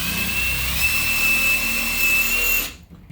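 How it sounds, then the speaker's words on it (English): Power drill boring pilot holes into a wall, a loud steady whining spin held for about two and a half seconds before cutting off abruptly. "Just make a couple pilot holes."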